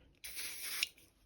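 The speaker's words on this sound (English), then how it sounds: "So just take a bit of WD-40, spray it liberally on" Aerosol can of WD-40 sprayed liberally onto a wet, grimy Micro Mini scooter wheel, a single close hiss of about two-thirds of a second that cuts off with a slight sputter.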